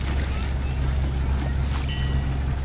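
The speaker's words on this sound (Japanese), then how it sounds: "ここでちょっと手漕ぎボート乗ります。" A hand-rowed boat out on a river gives a steady low wash of water and wind rumble, with faint creaks and splashes drifting through the constant background.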